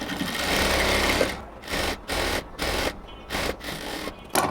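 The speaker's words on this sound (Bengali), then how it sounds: "আরেকটা সেলাই ডাবল ভাবে দিয়ে দিব এখন।" Sewing machine running a second, double line of stitching along a seam of salwar pants, in close bursts of rapid mechanical chatter separated by short pauses as the fabric is repositioned.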